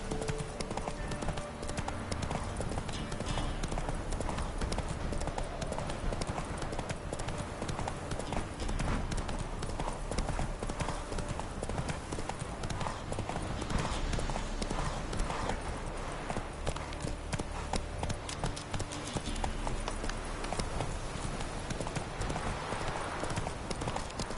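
A horse gallops steadily in The Witcher video game, with continuous rapid hoofbeats on the ground against a dense game soundscape throughout.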